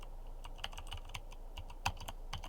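Fast typing on a computer keyboard, a steady patter of close, light key clicks with one slightly louder keystroke near the middle, no voices.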